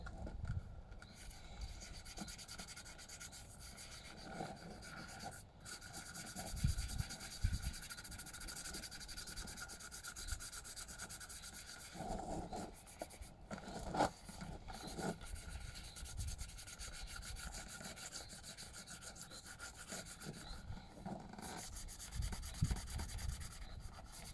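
Cheap car polish is rubbed onto motocross enduro boots in close, repeated scrubbing strokes, a steady rasping friction with uneven bursts and no talking.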